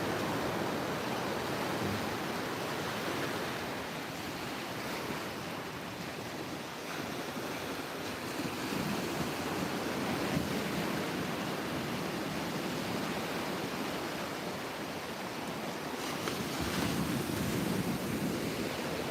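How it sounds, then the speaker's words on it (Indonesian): Gentle morning ocean waves wash continuously onto the shore at Muaro Bayang beach, a broad steady roar with soft swells and no voices. "pagi ini ombaknya cukup bersahabat"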